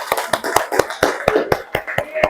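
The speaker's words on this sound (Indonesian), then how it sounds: "Ya, tepuk tangan." A class of students claps in a loose, uneven rhythm of sharp slaps, close and steady for a couple of seconds, with no talking.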